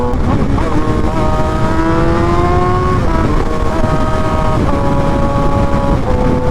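Loud, steady Suzuki GSX-R sport motorcycle exhaust drone with rising and falling rev tones, continuous throughout and close by.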